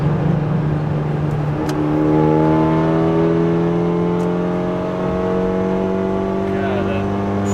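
A 2016 Kia Forte running on E85 pulls hard through fourth gear, its engine note climbing steadily in pitch with strong, continuous revving up close from inside the car.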